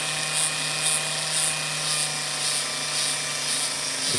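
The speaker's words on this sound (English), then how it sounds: "We'll just grind it down to the line." A rotary grinder works steadily on flexible epoxy filler on a Boehm porcelain peony during repair, a continuous high whine with a steady motor hum and slight pulsing, close and alone with no talking.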